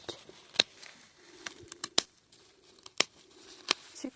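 Scissors snip blackened plant parts outdoors at a garden plot, a series of sharp separate clicks spaced irregularly, close and fairly quiet, with light rustling between cuts.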